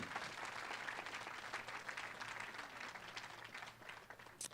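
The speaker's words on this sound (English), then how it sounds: "can we give Major Rhonda a round of applause" Audience applause fills a gala hall for Major Rhonda at a Red Kettle fundraiser, a steady, dense wash of clapping that holds at an even level throughout, with a slight dip near the end.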